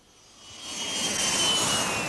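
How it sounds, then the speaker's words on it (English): A British Airways Boeing 737 jet engine roars steadily, swelling from moderate to loud with a high whine on top, heard alone without voices. "the jet arrived back in Manchester from Brussels"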